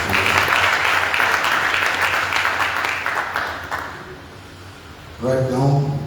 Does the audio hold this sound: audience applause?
yes